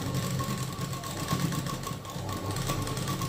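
A sewing machine runs steadily while stitching along the edge of a prince cut blouse, giving a continuous mechanical hum and whir with no pauses.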